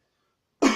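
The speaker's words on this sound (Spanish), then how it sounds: "perdonad por el toser, pero tengo la garganta un poquito mal" A single short, harsh cough from a person with a sore throat bursts out after a stretch of silence, close and fairly loud.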